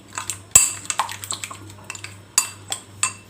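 A utensil clinks and scrapes against a bowl while chicken tikka marinade batter of gram flour and Kashmiri chilli is mixed, with one sharp knock followed by irregular light taps and stirring sounds.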